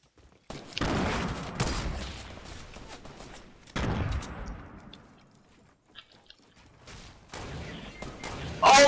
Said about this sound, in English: He's really using a silenced SMG.